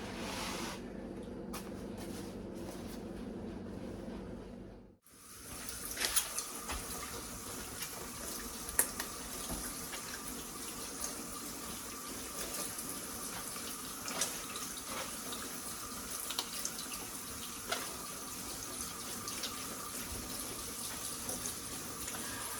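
Freshly harvested garden vegetables washed under a running kitchen tap: water splashes briefly, stops for a moment, then gushes steadily with scattered clatters and rinsing sounds, fairly close, no talking.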